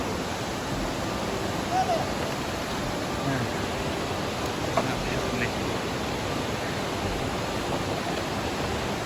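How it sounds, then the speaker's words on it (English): A waterfall beside the natural living root bridge in Meghalaya rushes as a steady broadband roar throughout, with someone briefly speaking over the constant water noise. "beautiful waterfall."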